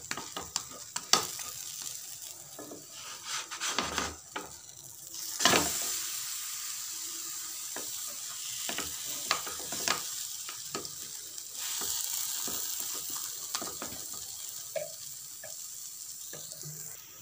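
Cheese and vegetable parotha pressed flat and frying on a hot pan, giving a steady close sizzle with scraping stirs and a few sharp clatters throughout, no voices.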